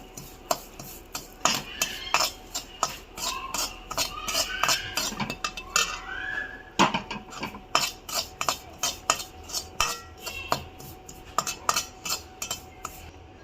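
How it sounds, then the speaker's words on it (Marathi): Poppy seeds roasting in a little oil are stirred with a metal spoon, giving rapid, uneven scraping and clinking against the pan that runs the whole time, fairly close and loud. "ही खसखस आहे, ही पण भाजून घ्यायची आहे थोडं तेल टाकून"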